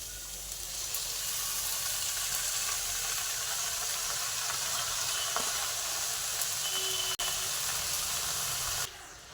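Spinach hitting a hot pan with lightly fried eggplant, giving a steady close sizzle and hiss that runs almost unbroken, with a sharp click near the end and no voices.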